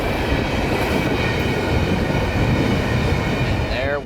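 A CSX freight train rolls past at night near Winston Yard, its loud, steady rumble and clattering wagons going on without a break, with a brief wheel squeal rising near the end.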